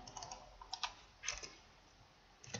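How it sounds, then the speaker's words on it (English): Quick, light keystrokes patter on a computer keyboard in short bursts with pauses between, close and quiet, while a command is typed into an Ubuntu Linux terminal. "and then type the full path of the file"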